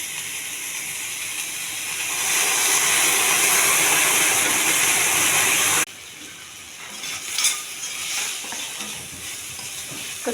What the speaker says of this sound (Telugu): కొద్దిగా ఆవిరిలో ఉడికించగా వచ్చిన వాటర్ కొంచెం ఇవ్వాలి